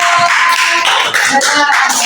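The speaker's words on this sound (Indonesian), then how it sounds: "Tepuk tangan untuk Zara." Classroom applause for a student, a dense patter of many hands clapping together loudly and continuously for about two seconds, close by and filling the room.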